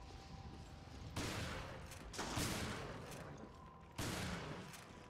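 Gunfire in the video game Resident Evil: Revelations: three sharp, loud shots spaced about a second apart, each followed by a decaying rumble over a noisy game background.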